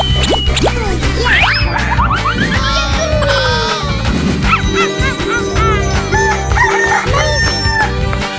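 Cartoon rooster crowing amid busy animal-cartoon sound effects and music, several rising calls layered over a continuous loud backdrop with other animal noises.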